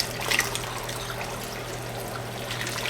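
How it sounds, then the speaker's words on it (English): Hot water trickles and pours into a canning pot holding sealed jars of homemade applesauce, a steady, close, moderately quiet liquid stream with no talking. "I'm just going to add some more hot water to this until it covers our lids about 1/4 inch."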